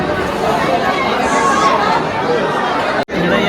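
A dense crowd at the Jejuri temple fills the air with a steady, close murmur of many overlapping voices, continuous for several seconds with a brief cut near the end.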